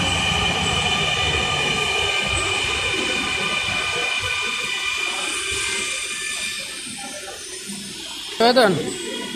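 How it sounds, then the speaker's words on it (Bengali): A Dhaka metro train bound for Motijheel running with a steady roar and rumble, a brief squeal of wheels near the end, and a voice speaking over it. "এই যে মেট্রো রেল এটা মতিঝিল যাবে"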